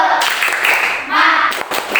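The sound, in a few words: children doing a rhythmic spirit clap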